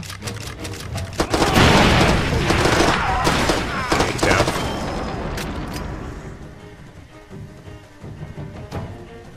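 Firefight in the video game Far Cry 2: loud, dense bursts of automatic gunfire and booming blasts pile up, then thin out to scattered shots and a lower rumble toward the end, with a voice talking in places.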